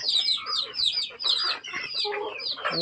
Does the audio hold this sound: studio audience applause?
no